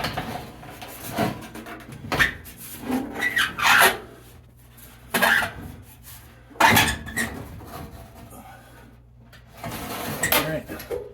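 A replacement fan motor carrier in an X-13 HVAC unit slides and scrapes into its metal tracks, giving several short rubbing, rasping bursts with thuds between pauses, close and fairly loud.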